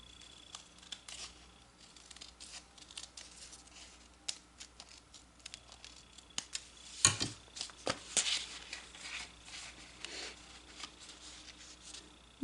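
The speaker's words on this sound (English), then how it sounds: "I'm going to cut one more time." Scissors snip through paper while making a gift card holder: scattered light cuts and rustles, then a few sharper, louder snips near the end.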